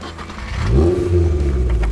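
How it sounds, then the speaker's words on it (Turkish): Cheap off-road car reversing, its mid-pitched engine revving steadily and rising in strength, loud and close for a couple of seconds with a low rumble throughout. "Arkadaşlar araba gördüğünüz gibi geri gidiyor."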